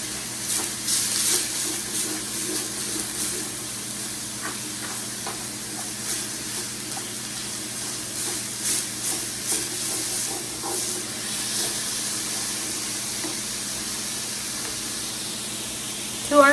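Ground pork browns in a pan with a steady, close sizzle and hiss, while scraping and clicking from a utensil breaking it up and stirring runs through the whole stretch.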